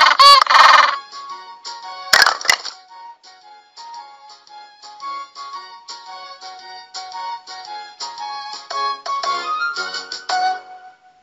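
An animated penguin's call from an animal-names puzzle game for children: a loud squawk opens, followed by a series of honking, nasal calls that rise and fall and repeat with brief gaps.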